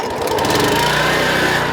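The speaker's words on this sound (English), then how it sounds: "a lot of lawnmowers." A lawn mower engine droning loudly and steadily nearby, a continuous mechanical rumble with no pauses.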